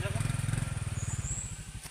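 A motorcycle puttering close by on a rough rural road in Zamboanga, its pulsing engine beat loud and regular, with people talking over it.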